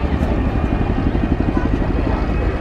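A Chinook helicopter from 27 Squadron flying a spiral descent during an air display at RIAT 2022, its rotors giving a loud, rapid thudding beat over a deep engine roar, with a commentator's voice partly mixed in.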